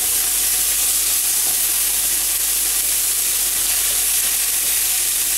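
Beef cut into small portions sizzles loudly and steadily in a hot pan while being stirred quickly, a dense continuous frying hiss with no talk.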